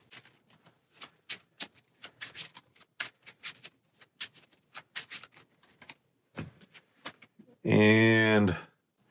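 Playing cards being shuffled during a Marvel Champions card game, heard as a long run of light, irregular clicks and taps up close, followed near the end by a short, loud tonal burst.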